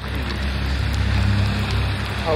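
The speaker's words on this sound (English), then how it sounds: "It's raining out here. It's raining." Steady rain falls outside a Home Depot store, a dense even hiss with wind buffeting the microphone throughout, loud and close with no clear pauses.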